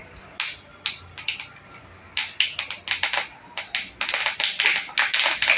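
Mustard seeds crackling in a couple of spoons of hot oil for a Marathi vegetable tempering, a rapid scatter of sharp, close pops and snaps that grows denser and more continuous as the seeds heat.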